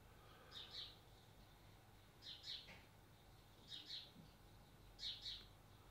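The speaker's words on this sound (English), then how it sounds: "there's a beautiful bird you could probably hear." A bird sings outside an open door, giving four faint, evenly spaced paired whistled notes at a distance over a quiet room.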